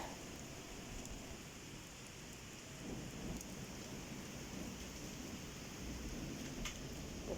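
Steady rain in Antalya falls throughout, a constant soft patter and hiss on surfaces with a few louder drips, no voices.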